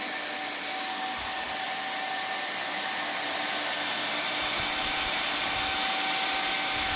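A hot air welder blows a steady, loud, hissing roar of air while tack welding a split boot, holding an even whine with no pauses and no voices.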